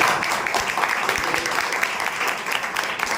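Audience applauding steadily in an indoor hall, dense clapping that holds at an even level for the whole stretch, with no voices over it.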